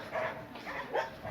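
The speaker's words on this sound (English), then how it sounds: "I see a larger dog" A larger dog gives a few short, soft barks and yips at a distance along a street walk from Flamingo street toward Barcadera road, faint and brief, three quick calls in a row.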